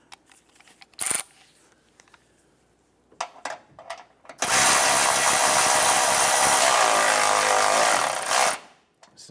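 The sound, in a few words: tightening radiator bolt on Cadillac Escalade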